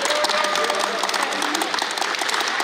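Crowd applause at an outdoor sports festival for people with disabilities, steady dense clapping filling the whole stretch at close range, with no pauses.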